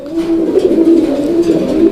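Pigeons at a Bengali pigeon market coo steadily and loudly up close, a continuous layered murmur of several birds with no talking.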